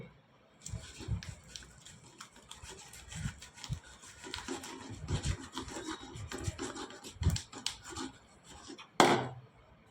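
Punugulu batter is mixed by hand in a bowl. Irregular squelching and rubbing strokes come up close at a moderate level, with a sharper scrape near the end and no talking.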